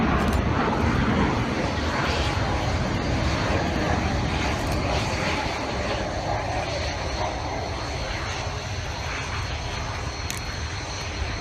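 The Avro Vulcan XH558 bomber roars overhead on its last flight at the RIAT 2015 airshow, a loud, continuous jet rumble that fades slightly as it passes.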